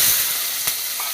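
Small shallots sautéing in hot oil with cinnamon, cloves and cardamom for a green peas curry, giving a steady close broadband sizzle and one brief sharp crackle or utensil tap partway through.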